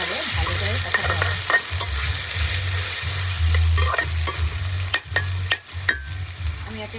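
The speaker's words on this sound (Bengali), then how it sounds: "খানিকক্ষণ ভাজতে হবে, ভালো করে কষাতে হবে।" Onion, garlic, ginger and spices fry and sizzle in a pan for a country chicken curry, with a steady loud sizzle broken by repeated scraping stirs and a few sharp clinks of the utensil.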